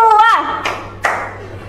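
A classroom clapping game: a voice speaks, then the class claps in two sharp, separate bursts, each fading quickly into the room.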